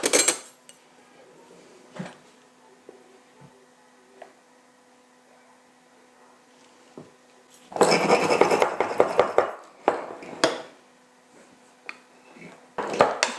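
Mashed potato is spooned into glass jars for a canned shepherd's pie, with a soft scrape and glass clink, then a louder burst of clattering spoon-on-jar contact and quick knocks near the end, no talk.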